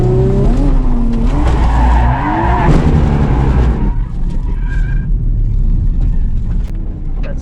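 Drift cars skid with loud, wavering tire squeals and engine roar close by, then the squeal fades into a more distant rumble with faint passing screeches.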